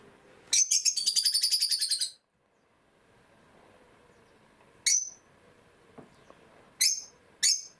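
A pet bird kept indoors chirps in a quick rapid trill of about a dozen notes, then after a pause gives three short sharp tweets, clear and close against a quiet room.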